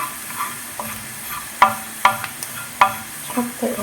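Lamb meat browning in a pan while being stirred, with a low sizzle underneath and three or four sharp spoon scrapes standing out, heard close and fairly quiet.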